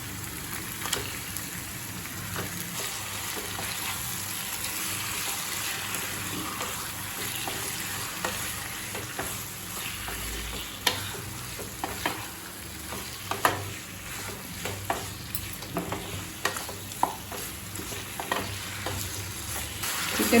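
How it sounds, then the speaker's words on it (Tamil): Chicken sizzling in a pan for a pepper chicken fry, continuous frying hiss with scattered scraping stir strokes that grow more frequent, close and steady, no speech. "சிக்கன் சேர்த்துட்டு நல்லா வதக்கிக்கோங்க."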